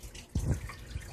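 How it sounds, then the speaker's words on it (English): Water trickles softly out of a broken siphon as gravity drains the last of it back, a faint, uneven dribble with a small splashy surge near the middle. "So the siphon's broken now, so what's trickling out is just what gravity's sending back, and then it'll go to the very last little drop and stop."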